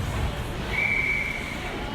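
Referee's whistle at a youth bantam ice hockey game, one short shrill blast heard mid-range over rink crowd murmur and arena noise.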